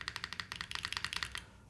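Fast typing on a Duo M prototype mechanical keyboard, a dense run of bright, clacky keystrokes in quick irregular bursts, close and fairly quiet, then fading out near the end.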